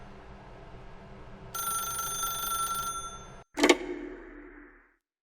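A telephone rings in The Stanley Parable, a bright electronic ring sounding for about a second and a half over a low ambient hum, followed by a sharp clattering handset pickup.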